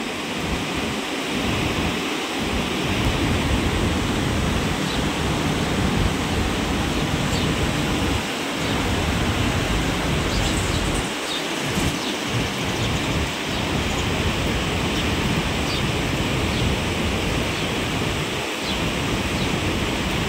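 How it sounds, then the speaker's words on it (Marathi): Constant loud roar of rushing floodwater in a major flood, a dense unbroken wash of noise with occasional deeper thumps beneath it. "जोरात पाणी, एकदम पाण्याचा जोर जास्तच आहे"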